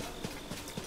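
A horse's hooves clip-clop in The Legend of Zelda: Tears of the Kingdom, with three evenly spaced, soft thuds over a steady background hum.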